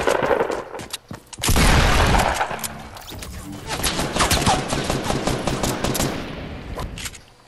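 Gunfire in the Fortnite battle royale video game, a sharp loud crack followed by a dense clattering burst of shots and debris, with players talking over it.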